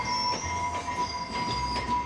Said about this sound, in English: why do I always wave at trains?